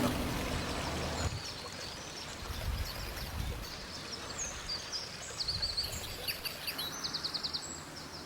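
Small birds chirp and twitter in quick repeated bursts in a garden over a steady wash of running water, with a soft low rumble early on.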